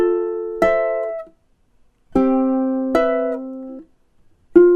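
Ukulele fingerpicks chords from Satie's Gymnopédie No. 1, each chord ringing then cut off abruptly with silent gaps between, giving a choppy, disconnected sound; close and clear, no voice.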